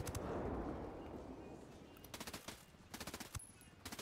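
Rapid gunfire from a weapon in Ghost Recon Wildlands, a loud burst at first and then several quick bursts of fast, crackling automatic shots that stay close and distinct.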